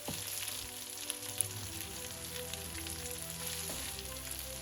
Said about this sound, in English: Let it cook for a minute till the onions get soft.